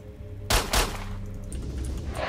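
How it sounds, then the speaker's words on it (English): Two sharp, loud gunshots crack close together in the S.T.A.L.K.E.R. Shadow of Chernobyl video game, followed by a low ambient rumble and faint distant noise. "What are you guys shooting at?"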